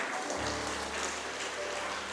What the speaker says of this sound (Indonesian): Kasih tepuk tangan dong buat Tuhan kita.